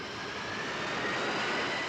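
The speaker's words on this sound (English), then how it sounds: "The plane started to move faster and faster." An airplane speeding up along the runway for takeoff, a steady broadband jet-engine roar that fills the cabin and builds slightly in strength, with no talking.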